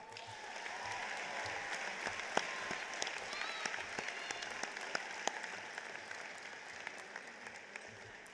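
Sustained applause from the audience at the Marion Harding High School 150th commencement, a fairly faint, even patter of many hands with scattered sharper claps, heard from some distance for several seconds.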